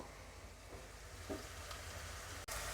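Sliced onions with salt softening in a pan, a faint, low steady sizzle with a few soft stirring scrapes, heard alone at a distance.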